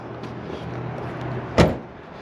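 A car door on a 1972 Chevy Malibu Chevelle SS tribute shuts with one solid, close thunk after a quiet idle-like hum, then a brief fading ring.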